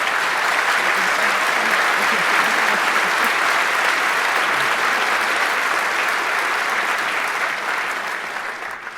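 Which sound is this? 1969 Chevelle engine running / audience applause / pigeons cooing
audience applause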